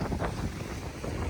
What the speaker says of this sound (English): Wow, the wind just picked up right now.